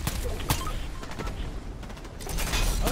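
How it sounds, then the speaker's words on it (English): Gunfire in a Fortnite match, irregular scattered shots with a busy mechanical background, growing denser and louder toward the end. "Someone else is shooting right here!"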